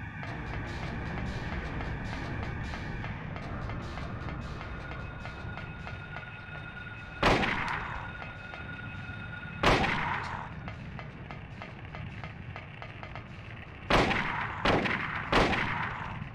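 Gunshots in the Silent Hill video game, fired at enemies: four or five loud, sharp blasts spaced over several seconds, heard above a constant droning, rumbling ambient background with no talking.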